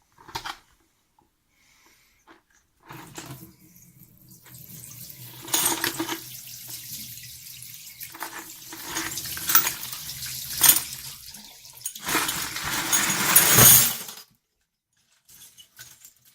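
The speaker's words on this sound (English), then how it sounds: "So into the sink and I'll give them a rinse." Tap water runs steadily over rusty Yamaha 9000 Recording Custom drum parts in a sink, splashing and clattering as the metal pieces are rinsed, with the flow surging louder near the end before it cuts off.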